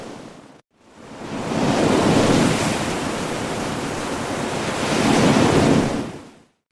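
Broad rushing surf of ocean waves washing onto Natsepa Beach in Maluku, Indonesia, swelling and receding steadily, with a brief drop near the start and a fade at the end.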